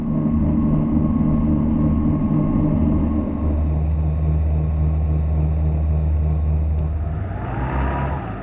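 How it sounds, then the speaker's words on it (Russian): Twin Mercury Diesel 6.7L engines on an FB Design racing boat run steadily with a loud, close, low droning rumble that holds constant before easing slightly as water rushes at the end. "Эти двигатели звучат прекрасно."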